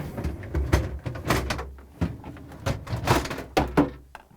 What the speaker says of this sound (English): I'm now going to pull out both crisper drawers.